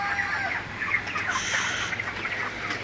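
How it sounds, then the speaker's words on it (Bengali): Broiler chickens cluck steadily while pecking at their feed on a farm in the hot late afternoon before dusk, a dense, continuous flock chatter with no voices over it. "এখন আমার প্রায় সব মুরগি খাবার খাইতেছে"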